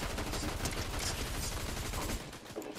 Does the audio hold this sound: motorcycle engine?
no